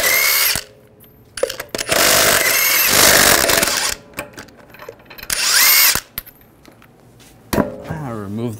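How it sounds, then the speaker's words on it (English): On a Ram 1500, a power tool with a 22 mm socket spins off the lug nuts in several loud whirring bursts separated by short pauses, ending in a winding-down whine. No one talks. "Using a 22 millimeter socket, we're going to take the lug nuts off"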